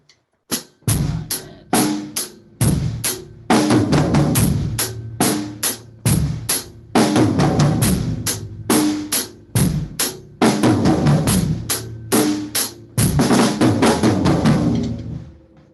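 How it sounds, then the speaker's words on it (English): A drum kit plays a rock beat up close and loud, driving kick and snare hits with cymbal and hi-hat crashes, rack tom accents and a busier flourish near the end. "that's the idea with the rock beat"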